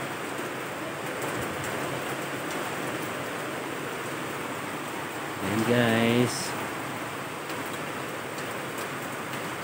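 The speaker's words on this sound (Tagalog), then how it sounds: "Ang lakas lang ng ulan pero walang baha." Steady, dense hiss of heavy typhoon rain pouring throughout, with a short bright tonal sound and a voice briefly speaking near the middle.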